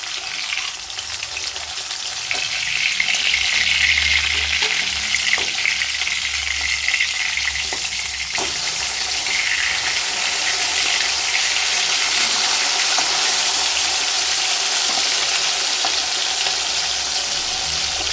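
Pabda fish frying on its second side in mustard oil, a steady loud sizzle with a few faint clinks and shifts in intensity, no one speaking.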